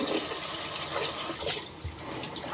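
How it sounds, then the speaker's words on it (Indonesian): Water for soaking sea cucumbers being changed, running and splashing steadily with gurgles and a few sharper drips, near and continuous with no speech. "Kita ganti airnya lagi dan diganti airnya lagi itu teman-teman"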